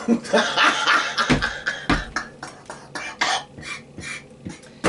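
Someone coughs in several rough, uneven bursts, close by, with some throaty sputters between them.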